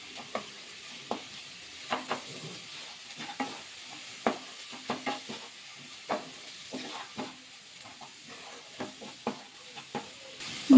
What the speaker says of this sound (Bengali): মশলা দিয়ে ডাল দিয়ে ভালো করে মিশিয়ে নেব।